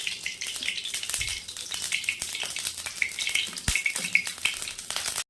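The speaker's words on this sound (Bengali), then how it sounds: "কড়াই গরম হয়ে গেছে, আমি দিয়ে দিচ্ছি এর মধ্যে সর্ষের তেল" Mustard oil heats in a hot wok, giving a soft continuous hiss and crackle with faint scattered pops, steady throughout and close.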